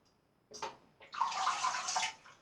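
Water from a tap rinsing a vintage Gillette Toggle safety razor, a brief splash followed by a steady, close hiss of running water lasting about a second.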